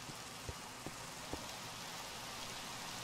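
Steady rain falls in the video game Minecraft, a soft, even hiss with a few faint thumps, quiet and continuous with no talk.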